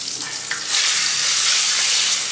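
Pork loin skin sears in a hot pan, a loud, close sizzle that swells into a dense, hissing fry after a brief quieter start.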